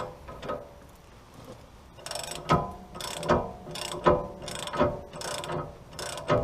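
A hand ratchet working loose a sway bar link on an L322 Range Rover, a string of loud, close clicking bursts in a steady rhythm after a quieter start.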